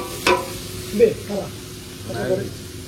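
Capsicum and onion sauté in a pan for Maggi noodles, giving soft intermittent sizzling and stirring scrapes under a speaking voice.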